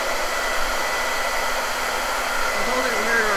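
A hair dryer blows steadily at close range while brown paint on a canvas dries, a continuous loud whooshing hum that holds level throughout with a slight pitch shift near the end.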